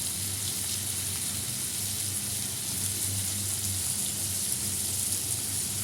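Chopped onion drops into hot oil with green chilli in a pan, giving a steady, close hiss of frying that runs without pause, with a faint low hum underneath and no talking.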